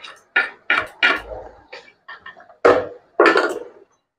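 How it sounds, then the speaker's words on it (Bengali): Spoon scraping and clinking against a pan while crab curry is stirred, a quick irregular series of close metallic taps and scrapes with no talking. "এবার আমি এটা আবার ভালো করে একটু নেড়ে নেব।"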